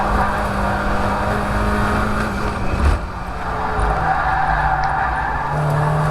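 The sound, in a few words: Mazda MX5 race car understeering on the Croft track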